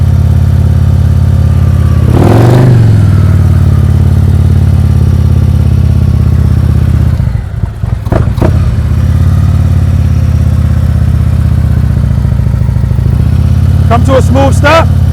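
A motorcycle engine runs close and steady at low speed during slow-speed riding practice, rising briefly in a rev and dipping with clutch work, with an instructor talking over it.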